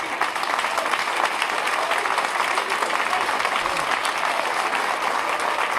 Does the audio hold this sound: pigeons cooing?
no